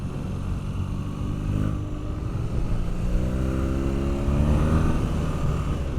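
A BMW R nineT Pure motorcycle engine in A2 form hums steadily while riding, a continuous low rumble with rising and falling engine tones and wind noise, moderately loud and close, with no talk.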